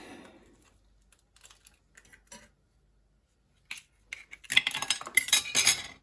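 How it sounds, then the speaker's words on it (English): Eggs for a Jamaican Christmas rum cake are cracked one at a time against a bowl, giving a few sharp taps and clinks, followed by a denser cluster of close cracking and clattering. "So I like to break my eggs 1 at a time"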